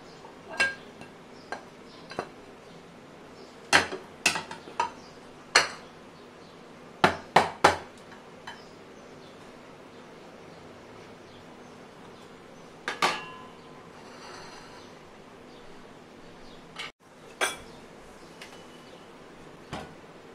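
Vegetarian tri-colour rice is turned out of a mould onto a plate, giving scattered sharp clinks and taps of dishware and utensils, some grouped in quick clusters. The sounds are close and fairly crisp against a quiet background, with no talking.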